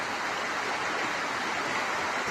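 Steady broadband rush of river water flowing where people bathe, continuous and fairly close with no talk or distinct splashes standing out.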